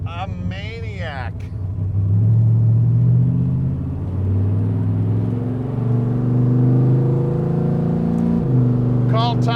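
A 1957 Chevrolet Bel Air engine accelerates while driving, a loud steady low rumble rising in pitch, with a voice briefly at the start and again at the end.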